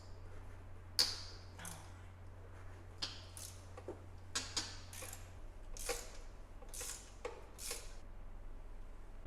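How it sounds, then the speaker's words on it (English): An old torque wrench loosens a spark plug on an E39 Touring, giving a series of sharp, irregular ratcheting clicks and ticks up close over a low steady hum. "Using this old torque wrench that definitely needs to be calibrated."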